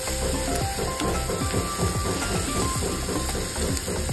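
Chopped onions with turmeric powder frying in oil in a pan, a dense steady sizzle with quick repeated scraping and clicking as they are stirred, loud and close, with no talking.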